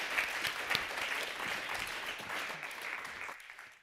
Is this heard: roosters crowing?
no